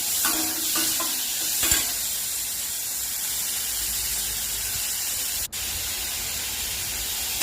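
Onion, curry leaves, green chilli and tomato sauté in sesame oil in a pan, giving a steady close hiss of sizzling with stirring scrapes early on and one sharp click near the end.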